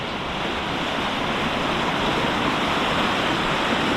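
River water rushing steadily past a muddy, mossy bank strewn with rocks and logs at a Tulameen campsite, a loud, close, continuous roar with no voices.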